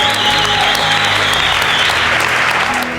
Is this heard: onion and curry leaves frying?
no